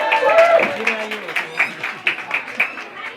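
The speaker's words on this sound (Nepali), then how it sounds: "रवि परिवार जोरदार तालीका साथमा स्वागत गरौँ" Applause at a family's 50th wedding anniversary gathering, a cluster of hand claps rising and falling under a nearby voice.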